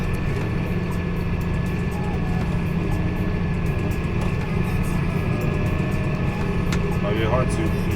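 A tractor engine on a Finnish farm runs steadily at raised revs with the power take-off engaged while spreading fertiliser in early spring, a constant low drone throughout with someone speaking over it.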